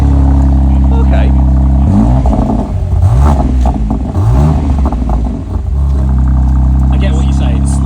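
A car engine idles with a steady low rumble, then revs up loudly in several sharp bursts through a throaty exhaust before settling back to idle.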